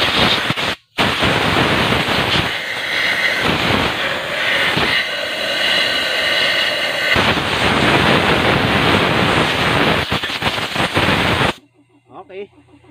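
Compressed air blows steadily over a cleaned Mazda MPV turbo, a loud broadband hiss that swells and pauses in bursts before cutting off abruptly near the end.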